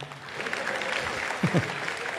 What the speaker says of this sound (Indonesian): Tepuk tangan terlebih dahulu buat junior saya Judika.